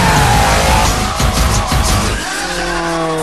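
A Nissan S13 drifts around a parking lot in Shift 2 Unleashed, its tires squealing loudly and continuously over a revving engine, with the squeal tailing off near the end.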